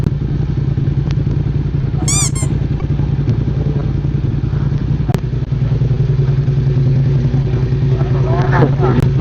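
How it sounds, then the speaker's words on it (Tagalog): Several BMW F900R motorcycles idle together on a rainy day, a steady mid-low engine rumble running throughout with occasional clatter and thumps, while people talk nearby. "Musok na ang mga motor namin."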